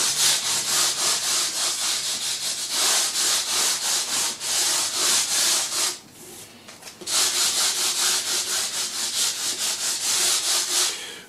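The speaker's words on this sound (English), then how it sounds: "put the sanding block at like a 45 degree angle, just smooth off the end of them frets" Steady back-and-forth rasping of fine sandpaper, about 800 grit, on a sanding block smoothing the fret ends of a Squier Jagmaster guitar, continuous strokes with a brief pause midway, close and loud.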